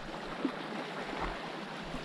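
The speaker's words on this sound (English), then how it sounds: "I love catching fish in tiny little streams that you can hop across." Tiny trout stream only a few feet wide, flowing water with a steady close babble and gurgle, continuous broadband rush with small splashy accents, no talking.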